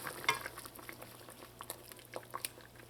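Pieces of saheena, a vegetarian split-pea fritter, simmering in a tamarind curry sauce in a pan, with soft bubbling and scattered light clinks and stirring touches, fairly quiet and close, no talk.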